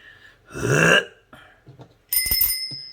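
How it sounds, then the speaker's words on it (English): A bicycle bell gives one bright, clear ring that lingers and fades, following a short throaty vocal sound and a few quiet knocks. "Ring that bell, baby."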